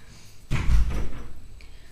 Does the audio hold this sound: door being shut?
yes